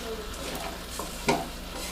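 Beef and vegetables cooking in a pot for a stew with orzo, a steady close sizzle with soft stirring and one brief clank of a utensil, no voices.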